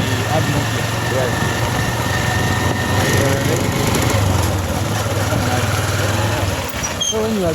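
A motorbike engine being ridden and accelerated runs loud and continuous throughout, a buzzing drone with shifting pitch as gears change, while people talk over it.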